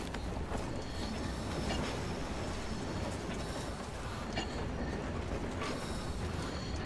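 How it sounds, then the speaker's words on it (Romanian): A train rumbles past in the post-apocalyptic shooter Metro Exodus, a steady, dense low roar with faint rail clatter holding at an even level throughout, no voices over it. "acolo e trenul."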